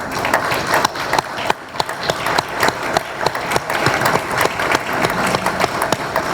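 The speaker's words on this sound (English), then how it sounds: "stand up so we can give you a round of applause as well." Audience applause rings out at a community press event announcing a METRO Curb2Curb transit service, a dense, steady burst of clapping from a room of employees and contractors, loud and sustained throughout without speech over it.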